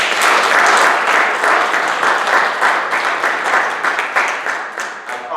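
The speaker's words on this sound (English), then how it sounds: "Let's give them a round of applause." A church congregation applauds at a Sunday Episcopal service. The clapping is loud and steady, a dense wash of many hands that holds for several seconds, then thins slightly toward the end.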